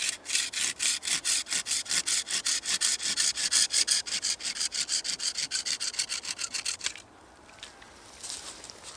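A hand saw cuts through a hammered-in wooden tap flush against the trunk of a silver birch, giving about seven seconds of steady, rapid rasping strokes up close, then a quieter pause with faint scraping.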